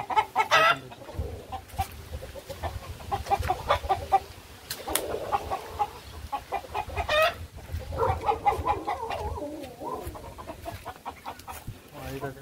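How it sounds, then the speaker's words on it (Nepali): Chickens cluck and a local rooster calls repeatedly in a farmyard in South Korea, the clucks steady and fairly close, with people talking quietly in the background at times. "कुखुरा कराउनु त कराउँदैछन्"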